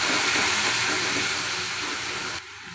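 Masala spices hit hot oil over fried onions for matar paneer, giving a loud, steady broadband sizzle that holds evenly before dropping off sharply near the end.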